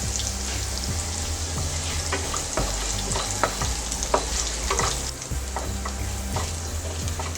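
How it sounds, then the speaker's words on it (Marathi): Cumin, curry leaves and green chili frying in hot oil in a pan for an aloo jeera dish, with a dense continuous sizzle and steady stirring strokes, close and loud over a low tonal background. "सगळं चांगलं फ्राय करून घेऊया।"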